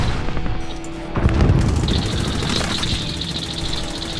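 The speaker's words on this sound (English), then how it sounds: "Stun grenades going in." Stun grenades going off during a rooftop assault in Call of Duty on PC, a rumbling boom followed by crackling bursts and a sustained ringing tone, dense and loud without speech.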